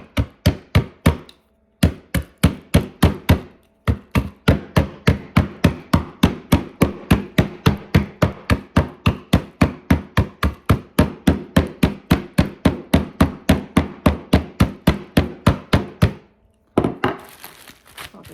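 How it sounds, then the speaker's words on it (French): A tool strikes walnuts over and over in a fast, steady run of sharp, close knocks and cracks, dozens of hits with only a couple of short pauses, no talking. "je peux prendre ça et frapper sur mes noix de Grenoble"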